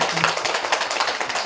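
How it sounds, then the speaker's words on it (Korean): A church congregation at a Sunday morning service claps together, dense rapid applause from many hands filling the room for a short burst. "우리 박수 한번 할까요?"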